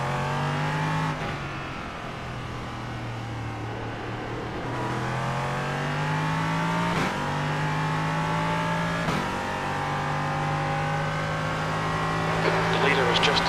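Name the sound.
race car number 24 passing at Le Mans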